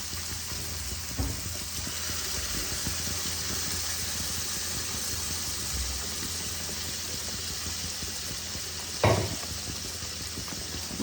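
Spice paste for kadhai fish fries and sizzles in a pan with a steady hiss, while occasional scrapes and clunks of stirring break through, one louder knock near the end.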